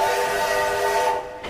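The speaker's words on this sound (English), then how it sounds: "It was a passing train" A passing train blows a long steady whistle, loud and sustained, that cuts off abruptly near the end.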